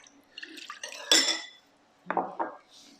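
A short splash of pickled garlic brine poured into a container for Thai seafood sauce, mixed with clinks of dishes and utensils, close by.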